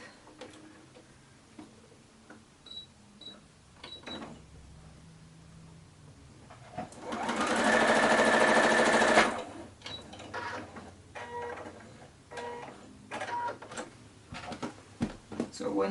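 A sewing machine stitches tumbler-shaped pieces for a baby quilt, running in one loud, steady whirring burst of about three seconds between scattered handling taps and clicks, with a voice talking at times around it.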